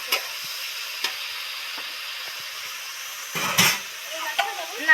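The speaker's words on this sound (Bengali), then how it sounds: "ঢেঁড়স তো নুন হলুদ দিয়ে ডিপ ফ্রাই" Okra coated with salt and turmeric deep-fries in oil with a soft, even sizzle and hiss, punctuated by a few clicks and a brief louder crackle near the end.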